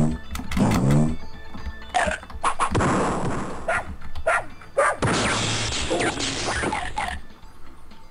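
A cartoon dog barks in short, punchy bursts in the video game 102 Dalmatians: Puppies to the Rescue, several loud yaps mixed with clanking game effects.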